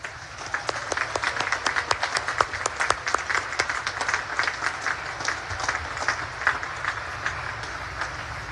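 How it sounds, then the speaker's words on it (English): An audience claps at the 2024 United States Naval Academy graduation ceremony, a steady wash of applause with distinct nearby individual claps standing out, moderately loud and continuous for the whole stretch. "please join me in giving them a heartfelt round of applause"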